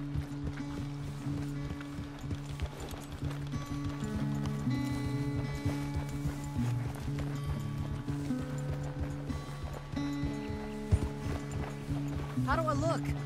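Horse hooves clip-clop in Red Dead Redemption 2, a steady rhythmic trot running under a musical score and in-game talk from the riders.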